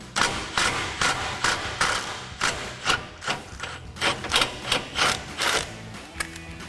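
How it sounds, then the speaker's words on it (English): A 13mm swivel socket ratchet on an extension backs out an exhaust hanger bolt on a 2024-2025 Mustang GT, giving a loud, close run of rhythmic ratcheting clicks in repeated bursts with brief pauses. "So I've got a 13mm swivel socket on an extension to pop this off."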